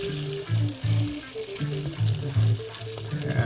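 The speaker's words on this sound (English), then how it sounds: "Two eggs. Stir them all up." Two eggs sizzle and fry in a hot pan while being stirred, a steady crackling hiss with soft scraping strokes, fairly close and continuous with no talk.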